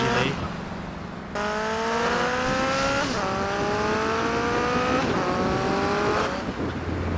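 A motorcycle in GTA Vice City revs through repeated rising gear pulls, each climb breaking off at a shift, loud and steady with faint talk in the background.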